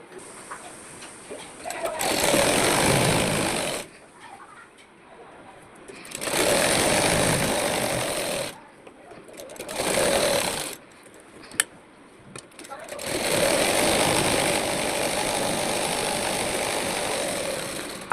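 A sewing machine stitching the hem of a palazzo, running in several bursts of a few seconds each with brief pauses between, a close, fast mechanical whir that starts and stops repeatedly.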